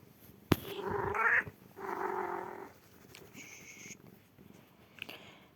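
A cat purrs and rumbles softly in short stretches up close in the game Roblox, broken by a sharp click and a brief higher mew-like sound.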